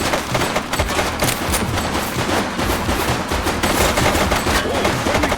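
Sustained automatic gunfire in The Precinct video game, a loud, dense, continuous rattle of rapid shots with overlapping bursts and no pauses.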